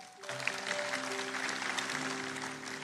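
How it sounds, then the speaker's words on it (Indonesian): A church congregation applauds during a sermon, a steady round of clapping at moderate distance, with sustained held tones from music or a keyboard beneath it. "Berikan tepuk tangan untuk Tuhan."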